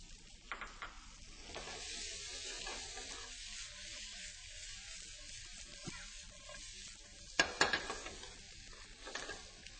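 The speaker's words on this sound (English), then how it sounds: "Before it's completely cooked, I'm going to introduce some garlic and some onions and allow those to cook right along with the tofu." Tofu frying in a pan with garlic and onions, a steady close sizzle running throughout with soft stirring and scraping, and a brief louder clatter of utensil against pan near the end.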